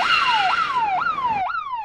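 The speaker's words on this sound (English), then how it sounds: "the 120 decibel siren sounds" A 120 decibel work zone intrusion alarm siren blares loud and near, sweeping down in pitch and jumping back up in rapid repeating cycles about every half second, alone without talk.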